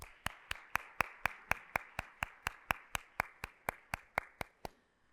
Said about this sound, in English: So let's give all of our partners a huge round of applause.